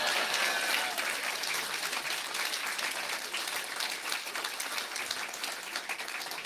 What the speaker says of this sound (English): Ladies and gentlemen, a round of applause for Adam, my Attorney General.